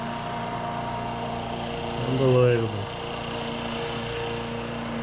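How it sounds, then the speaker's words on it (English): Lawnmowers drone steadily nearby, a continuous engine hum throughout with a brief louder swell in the middle, while someone speaks over it. "Bloody noisy friggin' lawnmowers,"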